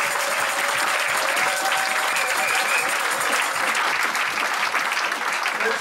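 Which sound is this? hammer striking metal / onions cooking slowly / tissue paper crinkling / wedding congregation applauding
wedding congregation applauding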